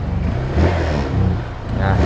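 A used 2021 motorcycle engine revs up in quick, throaty pulses, close by, rising and falling a couple of times.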